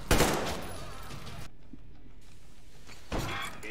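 Gunfire in the shooter game Metro, a loud close burst of shots at the start and another burst near the end, with a quieter gap between them.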